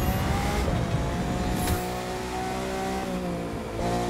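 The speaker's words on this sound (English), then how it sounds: "it has the classic V12 sound of the V12 sounds in this game." A Lamborghini V12 engine in the racing video game The Crew 2 drones steadily with a loud, sustained tone, its pitch rising and falling slightly as it accelerates.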